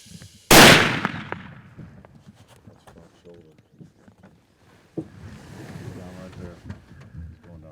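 A single loud rifle shot cracks during a deer hunt and its echo fades, then voices talk quietly alongside soft rustling and movement outdoors.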